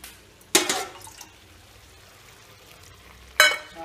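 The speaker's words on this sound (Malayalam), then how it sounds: "കുറച്ചുകൂടെ വെള്ളം ഒഴിക്കണം" Water is poured into egg curry in a frying pan, bringing two short bursts of splashing sizzle with quiet simmering in between.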